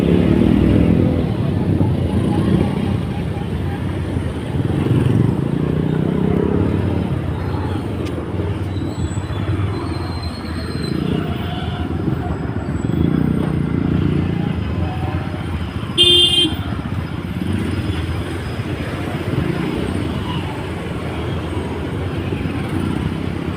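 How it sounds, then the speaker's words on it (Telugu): Heavy evening road traffic near East Marredpally park rumbles past, a dense steady drone of motorcycles and cars with a brief horn toot midway, loud and close, with voices talking over it at times. "చాలా ట్రాఫిక్ ఉన్నది ఫ్రెండ్స్. సాయంత్రం పూటలు వెళ్తే ఇలాగే ట్రాఫిక్ ఉంటుంది."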